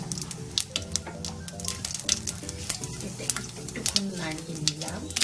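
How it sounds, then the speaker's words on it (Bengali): Cumin, dry red chili, cinnamon and bay leaf spluttering in hot oil as a tempering for a paneer and potato curry, with busy crackling sizzle and stirring clatter, close and moderately quiet. "এবার এর মধ্যে আমি জিরেটা ফোড়ন দিয়ে দিলাম, দিলাম শুকনো লঙ্কাটা, দিলাম দারচিনিটা, দিয়ে দিয়েছি তেজপাতাটা"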